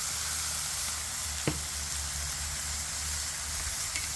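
Buffalo chicken tenderloins sizzle steadily in a pan with stir fry sauce, a continuous close frying hiss with one brief clack partway through and no talking.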